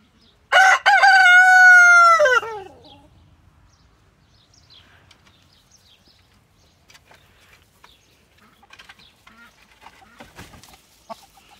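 A rooster lets out one loud, close cock-a-doodle-doo early on at a poultry farm, then only faint scattered clucks and small farmyard noises follow.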